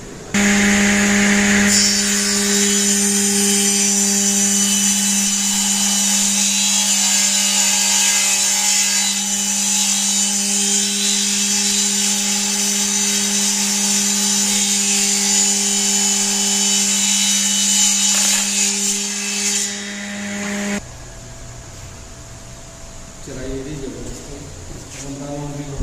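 A woodmax multipurpose thickness planer with a side cutter runs steadily through wood, giving a loud, continuous mechanical whine with a strong hum, then cuts off abruptly near the end, leaving quieter background noise.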